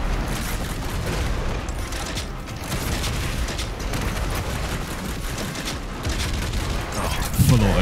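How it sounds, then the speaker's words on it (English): Rapid full-auto shotgun blasts from DOOM Eternal pound away in a dense, loud, continuous barrage layered with booming game effects and mechanical clatter, with a heavier burst near the end. "Full auto shotgun does just go in now."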